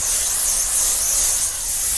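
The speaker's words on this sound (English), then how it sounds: "I'm just gonna like gently spray this on my hair because it's a nice aerosol" A Moroccanoil aerosol hairspray gets sprayed onto short hair in a steady, close, continuous hiss lasting about two seconds, with no talk over it.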